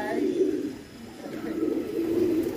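Pigeons cooing in a low, steady murmur around a rooftop loft, with someone talking over them throughout.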